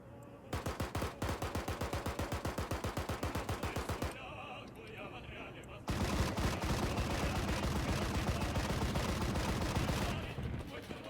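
Aircraft strafing gunfire in Arma 3: a long, rapid, evenly spaced machine-gun burst, then a brief lull and a second heavier, continuous roar of fire, loud and close with other battle noise, fading near the end.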